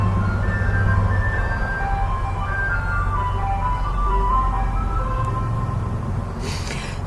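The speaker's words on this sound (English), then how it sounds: "There's an ice cream truck all the way out here." An ice cream truck plays its melodic jingle out in the open during an American parade, the tune carrying steadily over a constant low engine rumble throughout.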